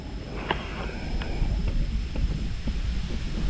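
Strong wind buffets the microphone in a steady roar outdoors, with faint scattered ticks and taps throughout and no speech.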